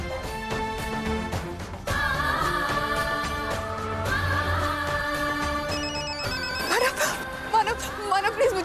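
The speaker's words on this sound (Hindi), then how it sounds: "अर्चना बार बार कॉल कर रही है।" A telephone rings repeatedly with an incoming call in a Hindi TV drama scene, a steady electronic ring tone running through most of the clip, with a sharper, busier passage near the end.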